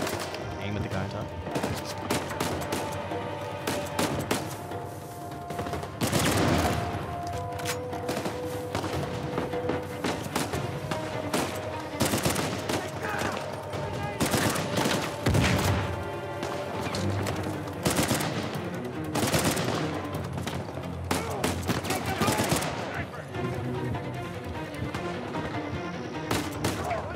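Gunfire from a shootout in the video game Uncharted 4, with repeated bursts and single shots cracking at irregular intervals over dense game music and effects across the whole span.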